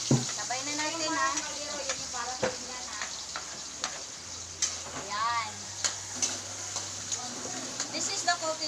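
Food sautéing in a cooking pot, soft sizzling and stirring scrapes running beneath ongoing conversation, with occasional sharper clinks of a utensil against the pot.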